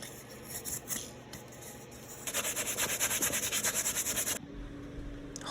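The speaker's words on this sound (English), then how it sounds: "sanding and carving" Balsa wood blocks sanded by hand, a steady rubbing scrape that quickens into a fast, even back-and-forth rhythm, close and moderately loud, then stops abruptly.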